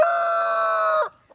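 A rooster or hen in a garden shared with Muscovy ducks gives one sustained, loud, nasal call lasting about a second that cuts off abruptly, close by with nothing else around it.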